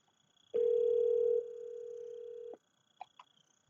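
A steady electronic tone from a desk phone after the call button is pressed, loud at first then quieter, lasting about two seconds, followed by a couple of faint clicks.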